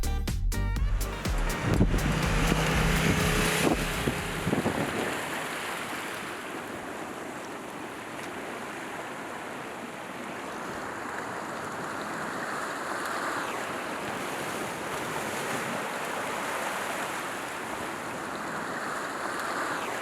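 Ocean surf washes steadily beside a coastal trail in Baja, a continuous broadband rush with wind buffeting the microphone, preceded by a few seconds of louder motorcycle-ride noise from a Ducati Multistrada V4.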